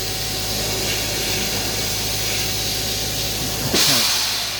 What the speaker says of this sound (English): So what that noise was, that plunger on that block pulling back and releasing the pressure out of the tank